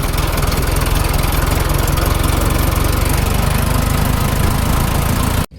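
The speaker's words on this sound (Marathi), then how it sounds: "ट्रॅक्टर आता चाललोय थेट पॉकलँड पाशी." A farm tractor drives along, its diesel engine chugging loud and close in a fast, steady pulsing rhythm that runs unbroken until it cuts off abruptly at the end.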